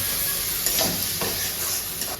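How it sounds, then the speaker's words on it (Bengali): Onions frying in a pan for a Bengali prawn curry give a steady, close sizzle with a couple of soft stirring scrapes, continuous and even with no voices. "এই যে আমার পেঁয়াজ ভাজা হয়ে গেছে।"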